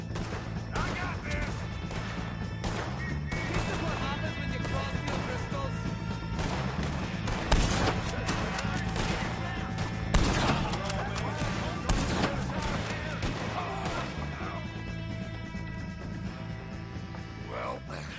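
Gunfire in the video game Red Dead Redemption 2, repeated sharp shots and crashing impacts scattered through a long, dense stretch of game sound, with several louder bursts standing out.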